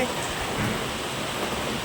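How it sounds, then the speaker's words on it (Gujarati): Dense, steady rain pours down with a constant hiss and rumble, with gusty wind mixed in throughout. "ધોમ વરસાદ પડી રહ્યો છે"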